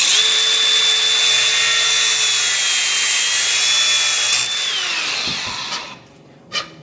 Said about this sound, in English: Grinder makes light work of that.